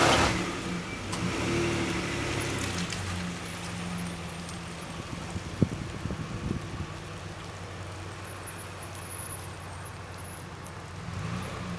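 Car in four-wheel drive with all-terrain off-road tires climbing a polished icy snow incline; a steady mid-pitched engine drone and tire noise hold throughout, with a brief louder knock near the middle and no talk.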